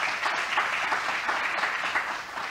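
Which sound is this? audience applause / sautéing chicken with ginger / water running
audience applause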